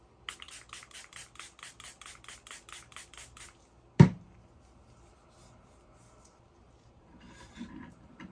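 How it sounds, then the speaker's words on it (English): Knife blade stroked rhythmically across a wet 160 grit sharpening stone, a steady run of short scraping passes, then a sharp knock and quiet handling. "now that we've got the knife in, we're going to start off with our first stone"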